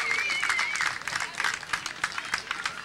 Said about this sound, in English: How about a big round of applause for those kids?